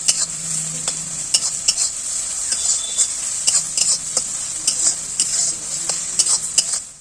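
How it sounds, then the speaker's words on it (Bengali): Chopped garlic frying in hot oil, a bright continuous sizzle broken by frequent close scraping and clinking of a spatula against the pan. "এবার এর মধ্যে একটু রসুন কুচি দিয়ে দিচ্ছি, এটাও ভালো করে ভেজে নেব"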